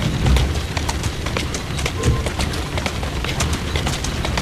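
Horse hooves clip-clop in Assassin's Creed Syndicate, a steady rhythmic trot of sharp, close hoof strikes on a hard street surface that continues throughout, with a soft thump partway and no speech.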